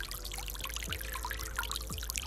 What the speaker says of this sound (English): the flowing water can attract more birds